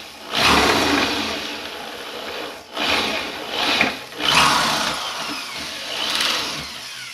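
A drill bores through a Mosin Nagant rifle receiver for a scope mount in several close, whining bursts of motor noise that rise and fall with short pauses between.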